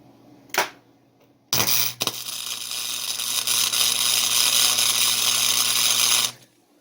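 Tack welding a homemade bicycle chain tensioner: a short crackling burst, then a sustained loud sizzling weld arc lasting several seconds with a brief break, close by, no talk.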